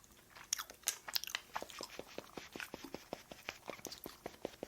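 Someone close by eats a snack, with a steady run of sharp crisp crunches and bites repeating quickly, fairly faint, with no talking.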